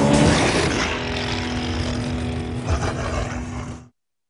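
Engine of a 469 horsepower Mercedes E55 AMG, a loud, full roar that starts strong and settles into a steady rumble before cutting off abruptly, with no talking.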